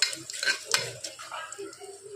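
Curry leaves, cumin and dried red chilies fry in oil for a spicy tomato curry, giving a soft crackle and sizzle broken by spoon scrapes and stirring against the pan.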